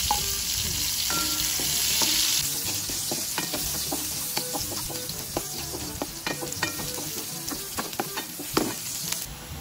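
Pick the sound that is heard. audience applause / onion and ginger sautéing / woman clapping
onion and ginger sautéing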